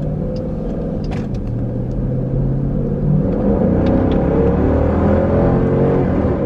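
Dodge Durango R/T Hemi V8 revving hard as the throttle opens, a loud, continuous low roar that swells and grows rougher midway, with no talking.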